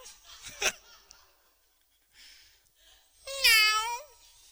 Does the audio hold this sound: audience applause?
no